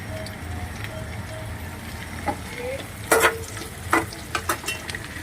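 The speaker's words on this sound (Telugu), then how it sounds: "ఇప్పుడు మనం పచ్చిమిరపకాయలు వేసుకుందాం" Green chilies frying in oil, with a low steady sizzle and several close spoon clanks and scrapes against the pan.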